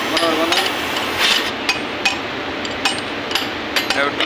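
Sharp metallic hammer strikes ring out while a part is driven into a Flender B3UH05 helical gear unit during assembly, irregularly spaced blows over a hissy workshop background.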